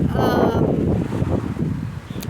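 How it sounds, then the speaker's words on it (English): Low, rumbling wind buffets the microphone continuously, with a faint voice briefly audible at the start. "sorry about the wind, it's suddenly turned out windy now."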